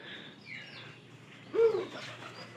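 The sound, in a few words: pigeons cooing in a loft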